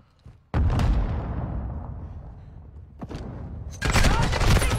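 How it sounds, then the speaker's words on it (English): Sniper rifle fire in a video game, with loud booming shots and long rumbling tails, one near the start and another burst toward the end, under a dense wash of battle noise. "Sniper rifle."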